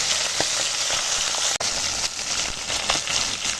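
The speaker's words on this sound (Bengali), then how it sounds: "বাকি মাছগুলো সব ভাজা হয়ে গেছে" Pomfret fish sizzling in hot oil in a pan, a steady loud crackle and spatter up close with occasional sharper pops and stirring, no talk.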